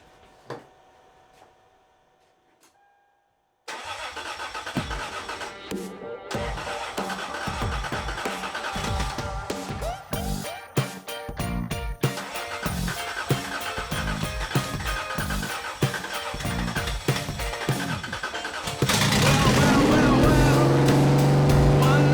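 After near silence, a freshly installed 3.4 engine with new oil catches and roars to life, running loudly with uneven rev surges and getting louder toward the end, with possible voices underneath.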